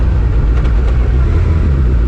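A 2001 Suzuki Hayabusa motorcycle engine idles steadily close by with a deep low rumble, continuous and loud throughout with no talking.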